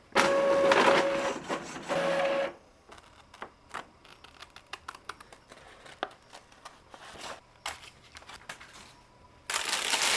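A home printer runs through a print job: a loud feed whir at the start, then a long run of rapid clicks and mechanical ticks from the print head, ending in another loud whir as the page finishes.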